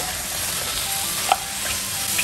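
King oyster mushrooms cook in a pan with a couple of spoons of water instead of oil, giving a close, continuous sizzle with stirring scrapes and a brief clink, and no voices.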